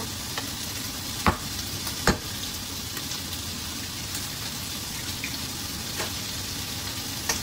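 Blueberry loaf batter with milk and eggs being stirred in a bowl, a soft steady scraping swirl with a few sharper clicks of the utensil against the bowl, close and fairly quiet.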